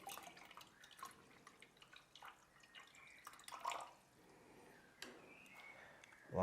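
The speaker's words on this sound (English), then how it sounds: "And then we just fill up with water." Water trickling and dripping into the humidifier tank of an AirSense 11 CPAP machine, faint and close, with small splashes and uneven bursts of flow.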